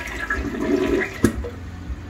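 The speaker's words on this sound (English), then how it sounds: "let's see if it'll flush for the vlog" A toilet flushing in a bathroom that had not been flushing properly: a short, close gush of water rises and fades within a couple of seconds, with no talk over it.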